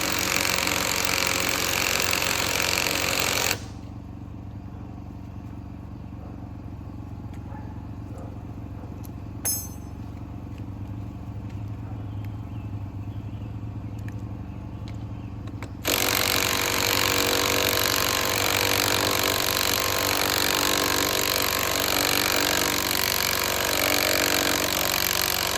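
Two impact drivers hammer 10-inch zinc-coated lag bolts into a solar panel rack base, producing a loud, continuous rattling drone that cuts out into a quieter pause and then resumes strongly.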